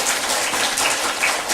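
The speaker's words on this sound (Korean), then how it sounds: "박수 한번 주시면 고맙겠습니다." A church congregation during a Sunday service claps together, a brief burst of dense, even applause from a large group in a reverberant hall.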